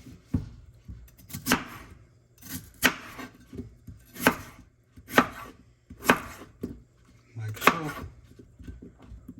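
A knife chops potatoes into even slices on a board, with sharp, evenly spaced thuds roughly every second or so, close and distinct against a quiet kitchen background.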